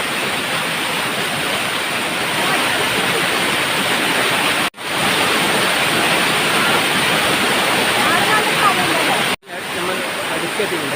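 The Chayoth Narathumkolli waterfall in Kerala roars in a dense, continuous rush of falling water heard from close by, broken only by two brief cuts in the sound.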